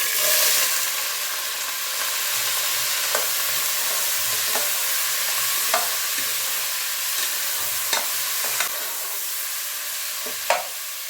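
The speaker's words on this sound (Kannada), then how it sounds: "ಎಣ್ಣೆ ಸ್ವಲ್ಪ ಚೆನ್ನಾಗಿ ಫ್ರೈ ಮಾಡ್ಕೊಬೋಣ ಬಟಾಣಿ ಮತ್ತು ಆಲೂಗಡ್ಡೆನ" Steady oil sizzle of peas and potatoes frying, with a few sharp clinks of a spoon against the pan, continuous frying hiss throughout, no voices.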